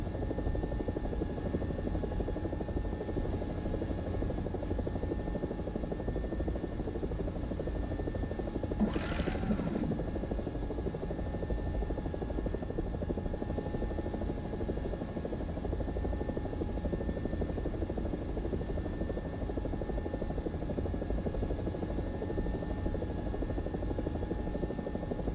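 An AB 205 helicopter flies in a video game, its rotor and engine drone holding steady and loud for the whole stretch, with a brief whooshing pass near the middle and no talk.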